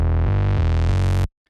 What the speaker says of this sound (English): I did a little transition with the low end